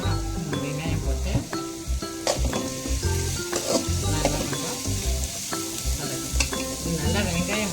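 Three sliced onions sautéing in oil in a pan with a pinch of salt, a steady loud sizzle broken by repeated clinks and scrapes of stirring against the pan, close by.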